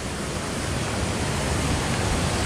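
A woodland waterfall roars steadily from close range, a dense, even wash of rushing water that fills the whole clip without any pause or voices.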